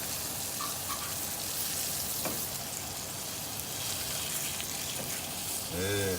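Round steak browning in a hot pan with onions, giving a steady, dense sizzle that runs the whole time, with a brief voice near the end.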